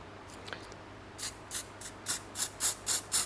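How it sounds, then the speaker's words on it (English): A run of short hissy bursts of glitter spray, about eight of them, coming faster and louder toward the end after a quiet start. "I'm just going to give it a bit of a spray just on that edge bit"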